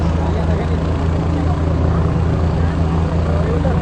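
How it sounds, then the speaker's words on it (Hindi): A helicopter lifts off after an election rally in Bihar, a steady loud low rotor and engine drone throughout, with crowd noise and faint voices underneath. "उनका हेलीकॉप्टर आसमान छूने लगा"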